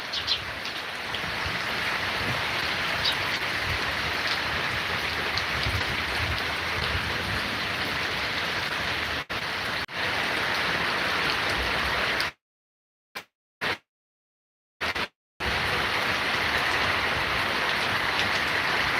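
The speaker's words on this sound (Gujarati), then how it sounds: "વરસાદ વધી ગયો" Heavy monsoon rain pours down in a steady, dense roar, continuous and close, broken by a few brief silent gaps near the end.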